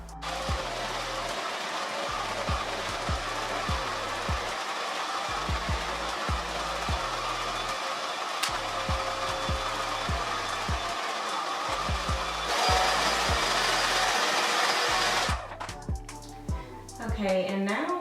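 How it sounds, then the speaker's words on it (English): A hair dryer with a diffuser blows steadily on curly hair, a constant close whir that shifts slightly in pitch later, with a person talking over it and soft rhythmic handling thumps. "I do want to diffuse the curls so that they dry and get bigger"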